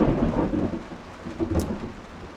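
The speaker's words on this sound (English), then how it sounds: "the storms never fail to surprise me" Thunderstorm in Texas heard from inside a box truck: a heavy low rumble of thunder rolling over steady rain drumming on the surface nearby.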